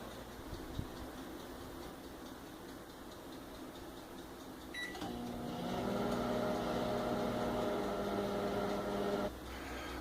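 An old, powerful microwave oven heating a frozen steak and cheese sandwich starts with a click and settles into a steady electric hum with a tonal drone, then clicks off near the end.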